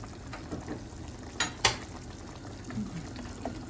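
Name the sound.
brine boiling in a pot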